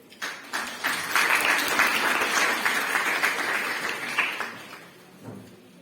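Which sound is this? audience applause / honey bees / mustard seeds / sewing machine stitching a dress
audience applause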